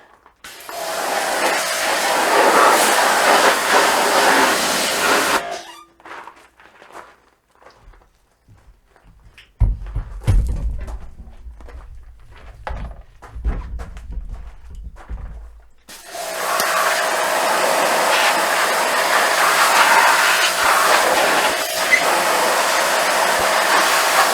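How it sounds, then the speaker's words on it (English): A pressure washer blasts water over tractor radiator fins on a Kioti CK25 HST, a loud steady hiss in two long bursts separated by a quieter stretch of clunks and footsteps. "I'm going to use my pressure washer that I have set up right here and make sure those fins are good and clean"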